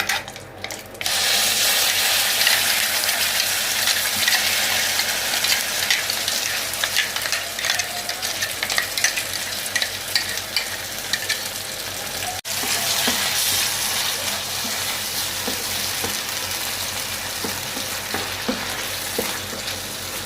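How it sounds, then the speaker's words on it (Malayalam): Tomato chutney poured into a hot mustard-seed and curry-leaf tempering hisses into a steady, loud sizzle that carries on continuously, with stirring scrapes, and no one speaks. "കടുകിട്ട് 1 തണ്ട് കറിവേപ്പില ഇട്ടിട്ട് നമുക്ക് നമ്മുടെ ചട്നി അവിടെ ചേർത്ത് കൊടുക്കാം."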